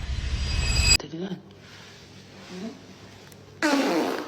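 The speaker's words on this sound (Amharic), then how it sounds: "ሱናሚ የሆነ ፈስ ነው የፈሳችው" A loud, blaring fart sound effect opens briefly and returns near the end, with quieter speech between the two bursts.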